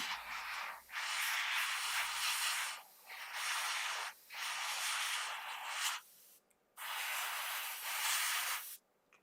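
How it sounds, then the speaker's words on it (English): Airbrush spraying grey paint at about 8 psi onto a Tamiya 1/350 Tirpitz model ship, a close hissing spray in four bursts of one to two seconds separated by short pauses. "So I'm spraying just over 8 psi again."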